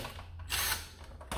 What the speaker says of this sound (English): The bit was loose in the drill here.